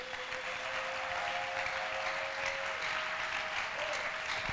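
A church congregation applauding the Lord, steady sustained clapping from many hands filling the room at moderate volume, with a faint held tone underneath.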